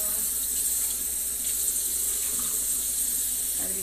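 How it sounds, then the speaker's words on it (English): A kitchen tap runs steadily while a big pot is rinsed in a divided sink, a loud, close, continuous hiss of water with faint knocks of the pot now and then. "rinsing this big pot because it keeps hitting the divider in the middle"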